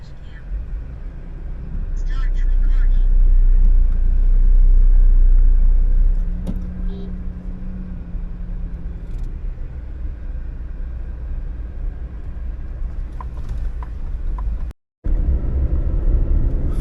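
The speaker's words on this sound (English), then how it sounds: "So this is the Nexon." A Tata Nexon CNG car is heard from inside while driving. Its engine makes a steady low rumble that swells for a few seconds early on and then settles into a constant drone, with a person talking over it.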